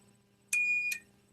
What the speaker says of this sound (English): So there's this button here, which if I push, you'll get the alarm.